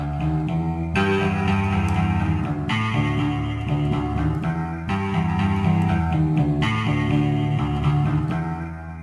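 A Street Fighter game voice sample played as a sustained musical tone through an amp with reverb, a bright, distorted drone holding steady in repeated phrases with no talking.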